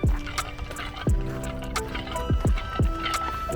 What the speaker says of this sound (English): Can you hear my ice in my little water bottle making a whole lot of noise?